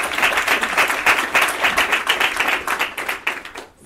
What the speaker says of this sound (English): will you please honor Pastor Martin with another round of applause